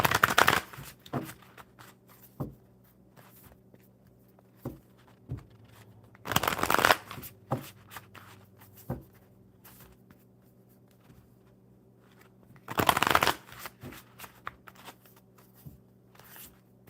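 A deck of cards being shuffled at a table, three quick riffling bursts several seconds apart, close and crisp, with soft taps and handling sounds between them.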